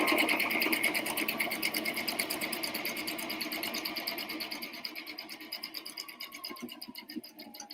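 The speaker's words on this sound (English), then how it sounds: "So I'm going to back stitch with my zigzag a few times right here at the end" A sewing machine hums with a rapid, evenly pulsing rhythm while back stitching a zigzag stitch at the end of an apron seam, fairly quiet and alone, trailing off slightly toward the end.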